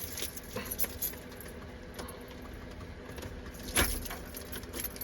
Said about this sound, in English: put the keys in the ignition